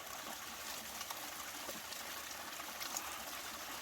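Mountain stream water on a volcano in Ecuador, a steady soft hiss of trickling, splashing flow that is continuous and fairly faint, with no voices.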